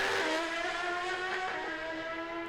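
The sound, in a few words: heavily modified Suzuki Hayabusa Pro Stock drag motorcycle run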